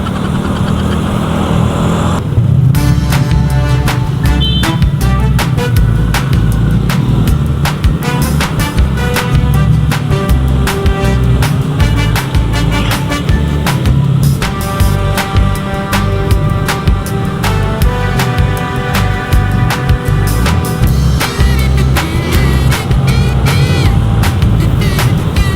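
A Suzuki Avenis 125 scooter weaving through EDSA traffic at night, its engine a loud, close, steady drone with busy clatter and passing vehicle noise throughout, no voices.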